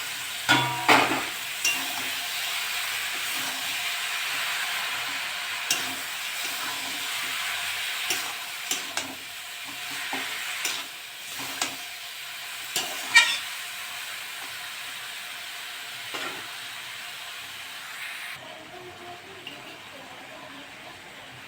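Cabbage frying in a pan for a Bengali cabbage chorchori, sizzling steadily with the soft clatter of a spatula stirring at intervals, close by and without talk.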